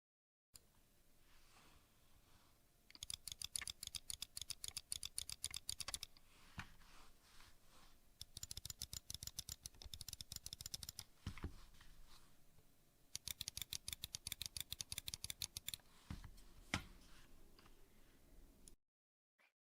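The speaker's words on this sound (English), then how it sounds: "I'm going to put the sound of the clicking of the top buttons to the microphone right now." Top buttons of Logitech gaming mice, the Superlight, G403 and G502, clicked close to the microphone in three rapid bursts of sharp plastic clicks separated by short pauses, with no talking.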